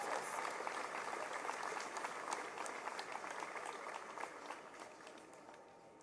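Audience applause at a Martin Luther King Jr. Day celebration on a university campus, a steady wash of many hands clapping at moderate distance, fairly even throughout and easing slightly toward the end.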